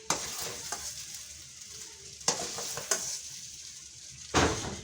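Zarda, a sweet rice cooked with coconut and raisins, is stirred in a pot over a steady sizzle. A spoon scrapes in a few sharp clanks and rasps, and the sound comes up close with no talk.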